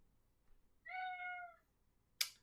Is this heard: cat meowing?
yes